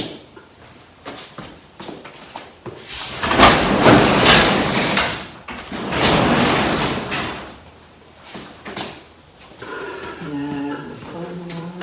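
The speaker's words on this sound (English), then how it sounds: "I'm going to open up this door." A door opened in a workshop during a 1951 Ford pickup paint and clearcoat project, with rattling clicks and a long sliding rumble followed by a second sweep, then a voice speaking near the end.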